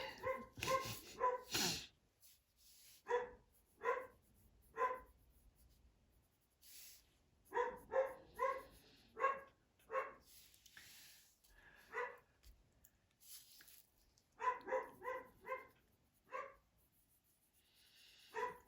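A dog indoors barks in repeated clusters of sharp yaps with pauses between them, moderately close, alongside faint scratching of colored pencils on paper.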